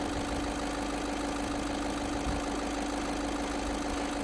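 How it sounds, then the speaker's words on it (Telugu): A 2019 Volkswagen Polo Highline Plus diesel engine idles with a steady, even hum, heard alone at moderate level with no talking. "ఇంజన్ సౌండ్ దగ్గర నేను సైలెంట్ అయిపోతాను, ఒకసారి మీరు అబ్జర్వ్ చేయండి"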